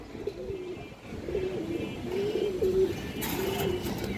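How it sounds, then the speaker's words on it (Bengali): Pigeons cooing close by, a low, throaty, repeated coo from a pair of flying-breed pigeons, male and female, with soft rustling in the background and no talk. "এই যে দেখেন সামনেটা দর্শক মাদি কবুতর, পিছনেটা নর কবুতর"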